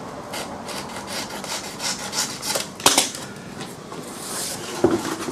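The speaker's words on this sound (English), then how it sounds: "these two ends here, I'm just going to trim a little bit out of there and a bit out of there so we can bring them together." A wooden piece for a build has its ends trimmed with a tool, giving repeated rasping, rubbing strokes in an uneven rhythm with a couple of sharper knocks, close and fairly loud.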